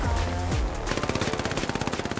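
Gunfire in the World War II shooter Hell Let Loose: after a brief louder burst and low rumble, a steady rapid string of around twenty evenly spaced shots rattles on, close and fairly loud, with no talking.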